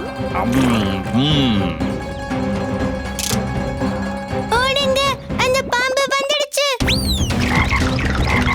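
A cartoon frog croaks in an animated children's story about a snake and ants, with a few warbling, bouncy croaks amid playful sound effects and a narrating voice.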